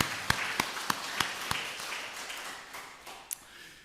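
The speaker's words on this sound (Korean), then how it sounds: "우리 하나님께 다시 한번 영광의 박수 한번 올려드립니다" A church congregation at a Thanksgiving Sunday service claps in a few sharp, evenly spaced beats, then scattered quieter claps fade out, faint and a little distant.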